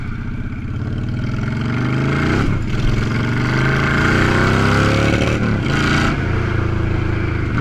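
A Honda Shadow motorcycle engine with rebuilt carburetors revs up loud and close, its pitch climbing and dipping through several throttle blips with steady engine roar throughout, no talking.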